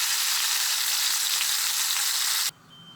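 Steady, bright sizzling of meatballs frying in a hot pan, close and continuous, cutting off abruptly near the end to a quiet background.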